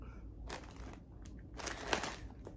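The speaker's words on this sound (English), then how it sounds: "Most of that noise is the paper." Paper crinkles and crumples in a few short bursts close by, rustling irregularly at low volume with quiet pauses between handlings.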